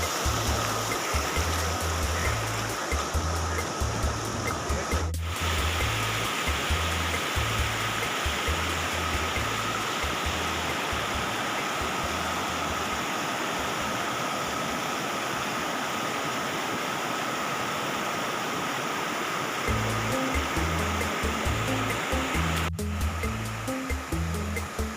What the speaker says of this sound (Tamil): மேலேருந்து அருவியிலேருந்து வர தண்ணி மட்டும் தான் இங்கே போய்கிட்டு இருக்குமா